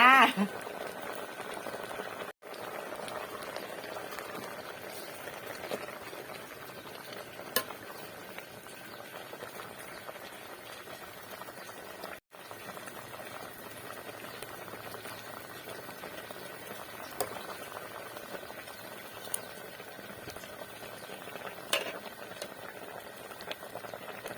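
Steady bubbling and hissing of water at a rolling boil in a pot for cooking tadpoles, filling the whole stretch, with faint clinks now and then.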